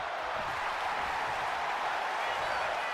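Steady, dense crowd roar from a WWE 2K25 wrestling arena match, loud and unbroken, a continuous wash of cheering with faint commentary voices beneath it.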